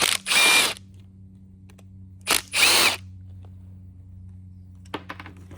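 A cordless power driver spins out the screws holding the air filter mounting plate on the carburetor of a 2007 Toro lawn mower with a Tecumseh engine, two short close whirring bursts, then a quiet pause and a few small clicks.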